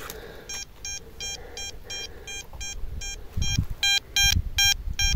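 A Deus Nokta metal detector gives repeated short electronic beeps in a quick regular rhythm while sweeping between rocks outdoors at a medieval dig site, the tones getting louder and sharper toward the end over rustling and thumps.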